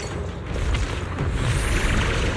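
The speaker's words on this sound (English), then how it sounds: "The cocoon is sending out blasts at intervals." Explosive blasts from a cocoon in a video game, a dense low rumbling boom that rolls on steadily and loud without a break, with no clear separate bursts.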